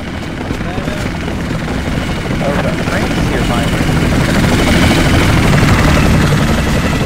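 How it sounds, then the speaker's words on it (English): A military helicopter in the Project Reality video game, Falklands War setting, thrums loudly and steadily as rotor noise grows slightly closer, with voices talking over it. "I see the helicopter."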